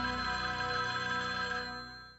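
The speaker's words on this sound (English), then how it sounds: "And the phone rings." A telephone rings with a steady electronic trill, fairly faint and alone, holding for about two seconds before fading out.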